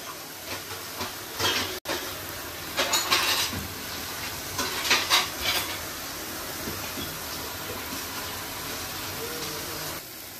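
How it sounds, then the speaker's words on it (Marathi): Paneer fries in a pan for veg shawarma, giving a steady broad hiss with bursts of sizzling and a few clinks. The sound stays at a moderate level throughout. "आता इथे आपण पनीर छान लालसर रंग येईपर्यंत फ्राय करून घेऊ."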